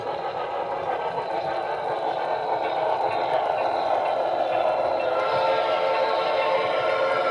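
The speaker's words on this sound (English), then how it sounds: "we're going to bring this train into the future Pennsylvania Railroad station" A small HO scale model train runs steadily on a layout, a continuous whirring rumble with faint clicking of wheels on track, close by and unbroken throughout.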